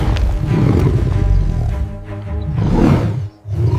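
A lion roars during a fierce fight with a tiger, a loud, close, deep rumbling roar with rough growling texture that surges, dips briefly near the end, then resumes.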